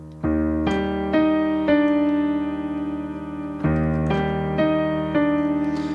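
A piano plays the slow melody of a song in octaves over sustained chords, each note struck clearly and left to ring, with no talking.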